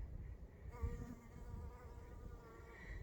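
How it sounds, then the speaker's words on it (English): Close, steady buzzing of a honeybee covered in pollen hovering nearby, a continuous droning hum with slight shifts in pitch, no voices. "Mr. Honeybee. Hello. He's absolutely covered in pollen."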